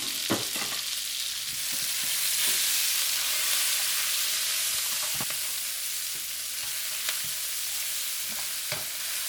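Chopped green onions sizzle and fry with black tiger shrimp in a hot pan, a steady close crackle broken by frequent stirring scrapes and clicks, with no talking.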